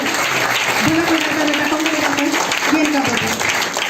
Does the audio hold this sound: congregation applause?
yes